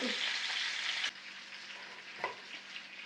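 Chicken drumsticks frying in oil in a pan, a steady close sizzle that drops in level partway through, with a soft clunk of stirring near the end and no talk.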